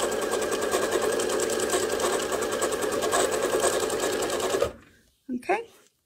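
A sewing machine free-motion quilting V shapes runs in a fast, steady needle chatter for several seconds, then stops abruptly, followed by a short quiet and a brief burst of handling noise.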